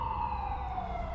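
An ambulance siren wails steadily after a tornado, one sustained tone that slowly falls in pitch, heard at middling distance with no talk over it.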